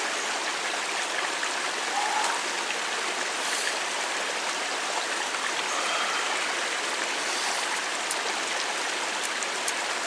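Tap water pours over a carbon steel kitchen knife in a steady, close, hissing rush that stays even for the whole stretch, with no voices.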